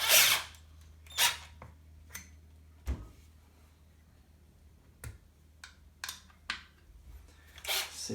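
A power drill drives stainless steel screws into a Pro-Line Pro-Fusion 4x4 1/10 RC truck, giving short separate whirring bursts and clicks spaced over a few seconds, close and otherwise quiet.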